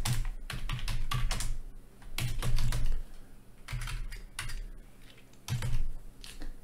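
Typing on a computer keyboard: close, quick bursts of key clicks broken by short pauses, with no one speaking.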